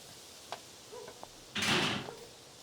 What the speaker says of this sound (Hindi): अंदर आ जाओ बाल्टो, दरवाजा खुला है